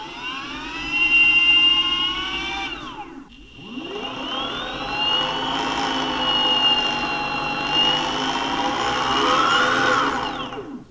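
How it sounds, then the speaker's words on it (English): Faulty Boosted electric skateboard motor with a problem in the right motor, whining loudly. Pitch sweeps drop sharply, rise again, then hold a sustained high whir with fluctuating tones. "The boosted's been making some noise for quite some time."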